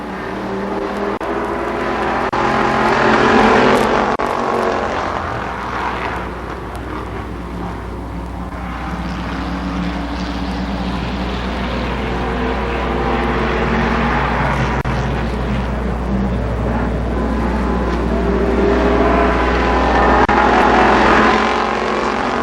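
Stock cars race at Columbus Motor Speedway during a Firecracker Championship event. Loud engines roar continuously, with the sound swelling and fading in waves as the pack passes nearby and circles away.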